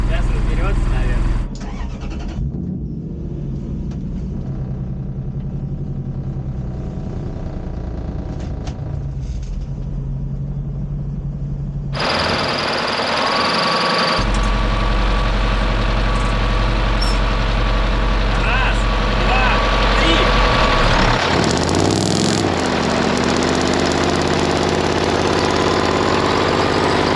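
A heavy diesel engine of a DT-75 crawler tractor runs steadily, its loud rumble surging as it revs, with people talking over it close by.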